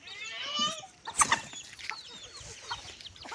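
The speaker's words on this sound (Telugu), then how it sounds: "చాలా మంచి పెట్ట అనమాట ఇది మంచి క్వాలిటీ పిల్లలు వస్తుంది" Backyard hens clucking in short, uneven bursts, fairly close but quiet, with faint other farmyard noise around them.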